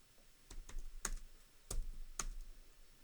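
Computer keyboard, several sharp, distinct keystrokes in an uneven rhythm over a quiet background, close and fairly soft.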